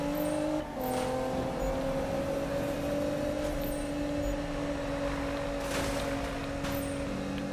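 Nissan GT-R engine in the Need for Speed racing game, a steady sustained drone with rising harmonic pitch as the car accelerates, loud and continuous over about seven seconds with brief transient bumps near the start.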